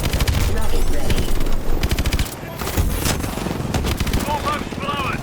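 Rapid automatic gunfire in Call of Duty Advanced Warfare, loud and continuous bursts mixed with combat voices and chatter, and a few sharper blasts near the end.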